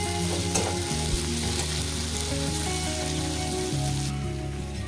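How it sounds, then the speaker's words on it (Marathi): Green peas sizzling and being stirred in a pan for street-style masala Maggi, a steady close crackling fry with occasional scraping stirs, loud and continuous with no talking. "आपण त्यांना छानपैकी एकदम मिक्स करून घेऊ आणि परतून घेऊ"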